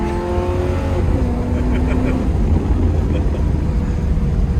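A 1973 Pontiac Trans Am Firebird with a shift kit, flooded by salt water, roars loudly from inside the car as its engine revs up with a rising pitch, shifts, then holds a heavy steady drone.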